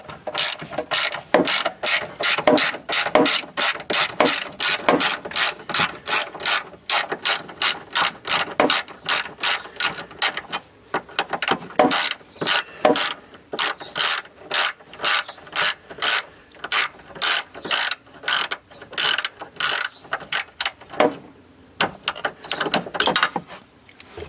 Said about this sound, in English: I have a 10mm deep socket wrench to get these off.